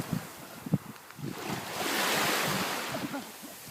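Sea waves wash in with a broad hissing surge that builds and recedes, mixed with gusty wind buffeting the microphone and a few brief bumps, close and fairly loud.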